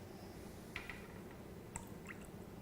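Pedialyte poured into a container gives a faint, brief liquid splash and a few soft drips over a constant low background hum.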